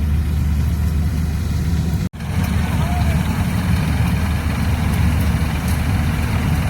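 A combine harvester's engine runs steadily on a farm, a loud continuous diesel drone with one brief dropout, while someone talks over it.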